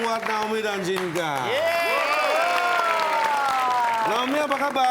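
Studio audience applauding and clapping to welcome two guests onto a talk show, steady crowd noise running the full length with music harmonics layered over it.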